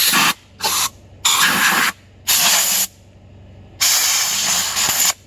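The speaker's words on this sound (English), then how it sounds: "this is probably the best way to get that nastiness out, is just to spray it out with air" Compressed air blasts through the oil holes of a 1983 Yamaha XV920M engine bottom end in a backyard, loud hissing bursts of varying length separated by short pauses, five or six in all.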